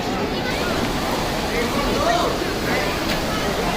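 Cold holy water at the Vaishno Devi pilgrimage site rushes steadily while a pilgrim washes their face, a loud, close, continuous wash of running water with no distinct separate splashes.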